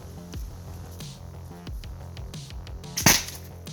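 A non-lethal projectile launcher fires one sharp shot from about 20 feet away, a single loud crack near the end standing out against quiet background handling.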